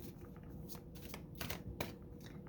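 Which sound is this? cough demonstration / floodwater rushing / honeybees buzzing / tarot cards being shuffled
tarot cards being shuffled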